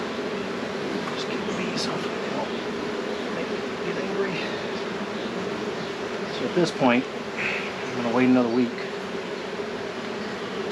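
Honey bees buzz steadily around an opened hive, a close, continuous drone running beneath a person talking throughout.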